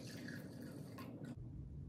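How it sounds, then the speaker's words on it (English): White distilled vinegar poured from a cup into a pot, a close, steady liquid splash and trickle that stops abruptly partway through, leaving a low background hum. "Then I'm going to add 1 cup of white distilled vinegar."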